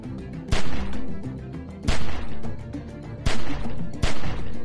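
Gunfire at a window in The Walking Dead game: four sharp, loud shots spaced about a second and a half apart, each followed by a brief rumbling tail over low background sound.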